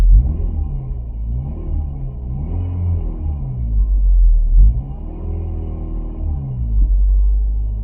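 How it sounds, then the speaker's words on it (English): A 1994 VW Golf 3 Variant engine revs repeatedly, rising and falling in several smooth swells over a steady idle rumble, close and loud, with no bogging. "I can rev it fine"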